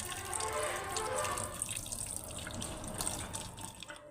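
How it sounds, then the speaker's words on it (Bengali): Snails being scrubbed and rubbed with salt in water at a sink, with steady close splashing and running water throughout, loud and continuous without talk. "ঘষে ঘষে নুন দিয়ে ভালো করে চটকে চটকে পরিষ্কার করতে হবে"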